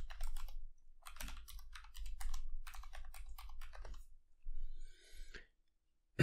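A run of quick, light keystrokes on a computer keyboard entering a username and password, close and crisp in a quiet room, coming in short bursts with brief pauses between them.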